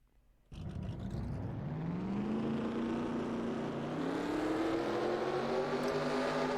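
Race car engines fire up together in the NASCAR Racing 2003 game at the California track, a sudden loud burst that settles into a dense, steadily rising engine drone lasting several seconds.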